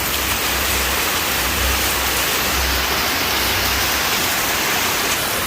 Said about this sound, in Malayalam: മഴ നല്ല മഴയുണ്ട്